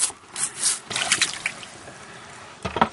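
Water splashing and trickling over a freshly dug-out rock at a mineral digging site near Bear Lake, with a few close, uneven bursts of liquid and drips, then a short final splash.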